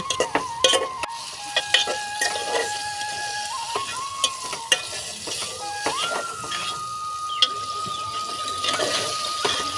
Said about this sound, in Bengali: এবার হচ্ছে মাংসটাকে শুধু কষানোর পালা